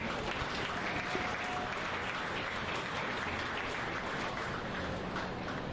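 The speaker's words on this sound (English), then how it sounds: "Give them a round of applause" Spectators at a county 4-H beef steer show applaud the grand champion drive, a continuous, even wash of clapping from a crowd, somewhat distant and soft in a large arena.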